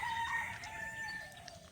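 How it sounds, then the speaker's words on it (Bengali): A rooster crows once in a brief, fairly distant call, heard alone outdoors in the morning. "মুরগিরও ডাক।"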